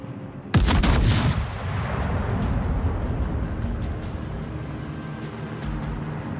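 Battleship guns fire a heavy broadside at an enemy warship in World of Warships, the Ohio battleship: a sharp loud blast with a rolling, booming decay, followed by a sustained low rumble of engine and sea noise.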